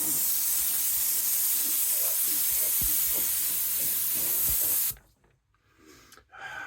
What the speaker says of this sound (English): there's a small hurricane blowing through the brush now